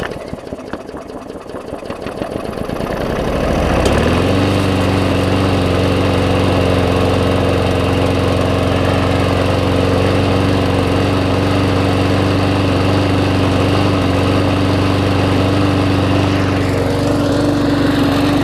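A Hyper Tough push mower engine with a previously seized motor starts up and runs rough, a loud steady drone with uneven knocking throughout after a brief sputtering start.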